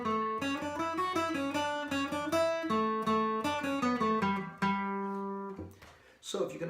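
Acoustic guitar picks out the melody line of the fiddle tune Red Haired Boy as a quick, steady stream of clean single notes that ends in a sustained ring, followed by a brief rustle.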